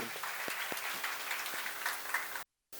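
Congregation applauding during a church seminar lecture on the Book of Numbers, a dense wash of clapping with occasional sharper claps, cutting off abruptly into a moment of silence near the end.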